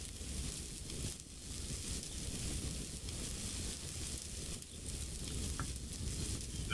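Food sizzles steadily as it cooks over a campfire in the survival game Subsistence, a soft, continuous frying crackle with no talk over it.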